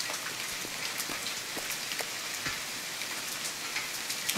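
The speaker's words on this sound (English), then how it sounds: "Now it's raining." Rain falls steadily in the survival game The Forest, near a beach, as a dense, even hiss with scattered pattering drops throughout, alone and moderately loud.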